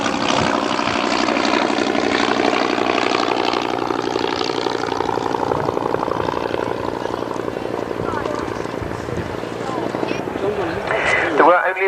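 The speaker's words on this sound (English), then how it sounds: "This is the only example of the Hawker Tomtit surviving in the world." Hawker Tomtit biplane flying with its piston engine droning steadily throughout, a rough propeller buzz at moderate distance, with a slight pitch sweep near the end and a voice talking over it.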